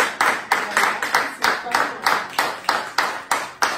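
An audience applauds at a talk on maternity and battered women's support, with sharp rhythmic claps repeating about every third of a second, close and even, without speech.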